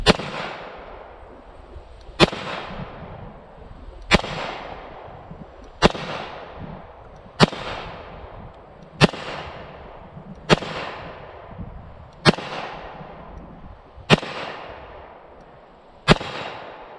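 A Para Ordnance pistol fires ten evenly spaced, sharp loud shots roughly two seconds apart, each crack trailing off in a long echo, with no talking.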